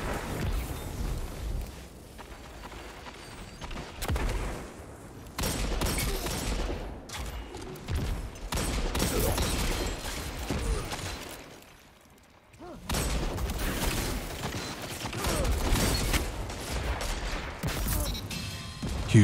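Hand cannon gunfire in a shooter video game, with heavy repeated shots and booming impacts densely layered over game sound effects, loud and nearly continuous with a brief lull midway.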